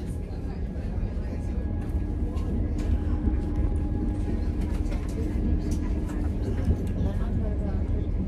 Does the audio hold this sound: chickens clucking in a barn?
no